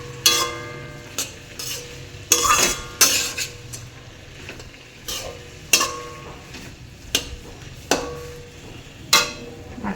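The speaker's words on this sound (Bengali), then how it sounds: "এটা ভালো করে মিশিয়ে দেব।" Fish curry with bottle gourd peel is stirred in a frying pan, with repeated sharp metallic clanks and scrapes of the spatula against the pan at an uneven rhythm over a low sizzle, close and without speech.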